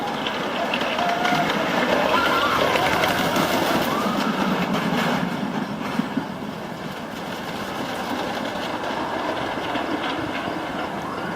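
A roller coaster train at Elitch Gardens in Denver rolls along its track with a continuous rattling roar and clacking wheels, steady throughout with faint voices beneath.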